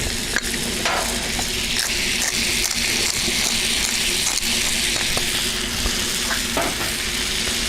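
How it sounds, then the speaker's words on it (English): Seasoned burger patties sizzle on a grill with a steady bright crackle and hiss, close and continuous, with occasional pops and scrapes and no talking. "Got to get some good sizzling going on."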